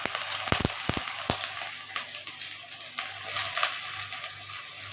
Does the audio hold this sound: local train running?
no